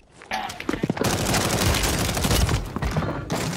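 Rapid, heavy gunfire from a Warzone 3 firefight bursts out close and loud in a dense, continuous volley after a short quiet start.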